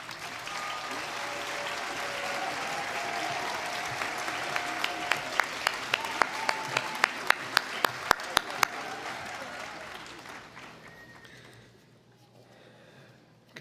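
Sustained audience applause fills a dental school white coat ceremony hall, with a run of sharp, louder individual claps standing out midway before the clapping fades away to near silence.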